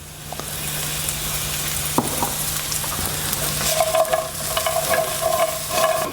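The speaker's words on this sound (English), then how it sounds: "Mix that in, we do not want the garlic to burn." Crushed garlic is stirred into bread croutons frying in a pan, a continuous soft sizzle with scraping stirs and occasional clicks of the utensil against the pan.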